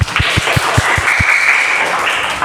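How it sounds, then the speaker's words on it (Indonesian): Students in an Indonesian classroom applaud group 3 after the group answers a question. The clapping is steady and fairly loud, and a few sharp low thumps stand out in the first second or so. "Tepuk tangan buat kelompok 3 atas jawabannya."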